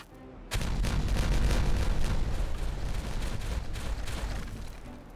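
In the Timberborn video game, demolition sets off a sudden heavy blast that gives way to a dense rumble of overlapping booms and crackles, loud and continuous, before fading slightly.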